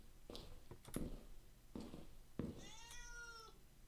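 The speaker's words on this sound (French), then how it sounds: "Ta gueule, le chat?" A cat indoors gives several short meows in a row, then a longer drawn-out meow at the end, fairly faint against a quiet room.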